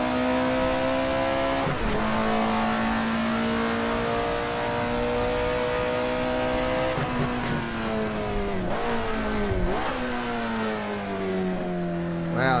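A rear-engined old-school car in the Assetto Corsa racing game drones loudly under load, its engine note holding steady then dipping and climbing through several gear changes and lifts, with no talk.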